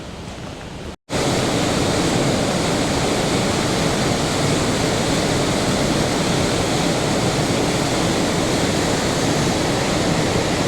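Lower falls of a waterfall in Glen Nevis, Scotland, running high with water: a loud, steady broadband roar that continues unbroken after a brief dropout near the start.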